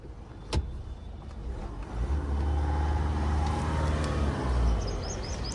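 A Ford car engine idles quietly just after starting, a low steady hum that swells slightly and holds, with a faint click near the start and light background noise, no talking.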